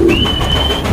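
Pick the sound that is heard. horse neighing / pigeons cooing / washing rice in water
pigeons cooing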